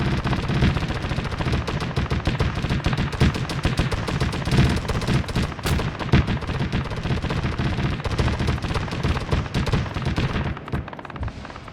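Rapid, continuous automatic gunfire from a Cheetah anti-aircraft vehicle laying suppressive fire in Arma 3, loud and dense bursts running throughout with distant explosions mixed in.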